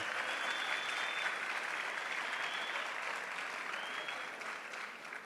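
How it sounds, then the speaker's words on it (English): Steady applause from a crowd, continuous clapping that stays even and fades slightly at the end. "I think another big round of applause for the young man."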